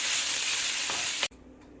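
Onions, carrots, chopped garlic and ginger sizzle loudly in a hot pan for Japanese chicken curry, a dense, steady hiss that cuts off abruptly near the end.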